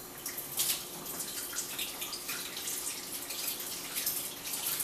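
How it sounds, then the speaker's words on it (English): Tap water runs steadily into a kitchen sink while hands are washed, a continuous close splashing hiss with small irregular surges and no talking. "I'm going to wash my hands"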